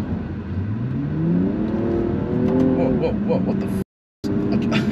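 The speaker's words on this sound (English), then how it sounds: "That was downshifting to first accidentally" A BMW M235i with paddle shifters and an automatic gearbox revs up and downshifts into first gear, the engine note climbing in pitch under a driver's startled speech, with a brief dropout near the end.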